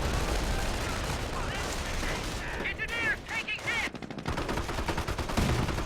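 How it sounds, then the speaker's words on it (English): Base machine gun in the World War II strategy game Company of Heroes, with dense rapid bursts of gunfire and scattered shots amid battle noise, loud and continuous, while a commentator talks over it. "Base MG to the rescue."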